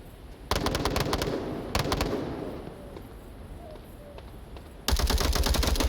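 Bursts of rapid automatic gunfire in a tactical shooter video game, with sharp clustered shots around the start, a second volley shortly after, then a dense sustained burst at the end, loud and close.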